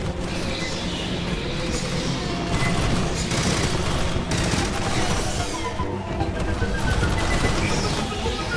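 Sustained gunfire from a sci-fi squad shooter battle against xenomorph aliens, with dense rapid bursts and booms layered continuously throughout, loud and close with no speech.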